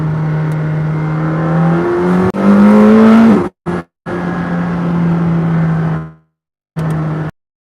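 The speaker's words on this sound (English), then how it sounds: "And a wide open throttle, it sounds amazing." A McLaren Senna supercar engine pulls hard at wide open throttle, rising and shifting pitch loudly up close, cutting out briefly in a couple of sharp gaps, then dropping away before a final short burst.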